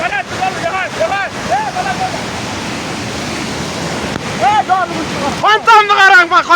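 Mountain mudflow torrent and waterfall: a steady broadband roar of rushing water runs throughout, loud and close, with people talking over it in bursts.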